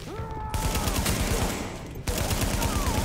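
SMG gunfire in the video game Tom Clancy's The Division rattles out in fast, dense bursts, loud and continuous apart from a short break, with faint game voices and effects underneath.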